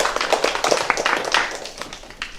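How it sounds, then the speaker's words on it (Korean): A church congregation at a Sunday service claps to welcome a pastor forward, a brief, dense burst of applause that fades toward the end. "박수로 환영하겠습니다."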